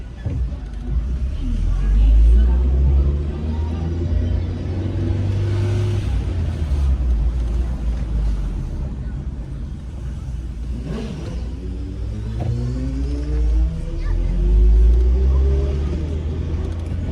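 A car drives around another vehicle at a street corner at Indiana and Franklin, its engine rumbling and revving under acceleration, with low road noise throughout and a voice talking over parts of it.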